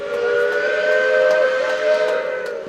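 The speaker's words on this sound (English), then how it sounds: "The number 7 steam train rang its whistle, blew its whistle." The number 7 steam train at a 2018 Canada Day parade sounds its steam whistle in one long, steady, loud blast lasting the whole moment, with layered tones and a breathy hiss underneath.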